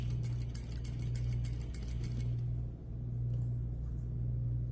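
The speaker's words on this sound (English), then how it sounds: "I'm going to stitch right to the left side of my stay stitching" A sewing machine stitches a Peter Pan collar facing, making a steady mechanical hum with a fast rhythmic clatter of the needle over the first half, then running on more quietly, close and fairly soft.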